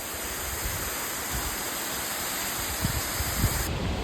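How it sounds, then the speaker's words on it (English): A nighttime waterfall pours with a steady, loud rushing wash of water, uninterrupted for several seconds, with slight low bumps near the end and no speech. "I hear a waterfall coming up though."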